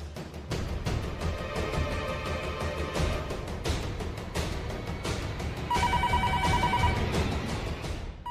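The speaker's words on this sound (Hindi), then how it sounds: "दिन भर ये फोन बजता रहेगा" A telephone rings repeatedly in a steady, insistent pattern against a busy background, loud and close, with no speech.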